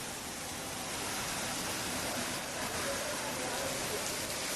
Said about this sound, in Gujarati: કેશોદના ગ્રામ્ય પંથકમાં વરસાદી માહોલ જે છે તે અત્યારથી જ જોવા મળી રહ્યો છે